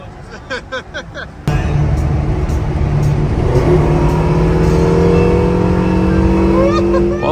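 A rebuilt Ferrari California T bursts into a loud engine roar after a few quiet knocks, then revs and pulls hard with a steadily climbing pitch as it accelerates close up.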